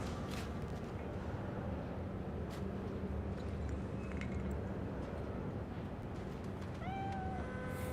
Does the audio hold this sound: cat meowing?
yes